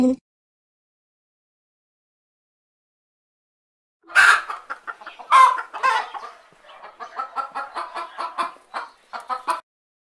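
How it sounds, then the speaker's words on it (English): A hen gives a run of clucks after a few seconds of silence, close and clear, in an uneven, stuttering rhythm of short calls. "Hen."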